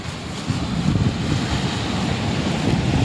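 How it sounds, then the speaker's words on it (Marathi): Big waves on a stormy, rough sea heard from a fishing boat, a continuous loud rushing surge with wind buffeting the microphone, swelling slightly after the first half second, no voices. "खूप बेकार वातावरण झालं आहे, पूर्ण खवळला आहे समुद्र."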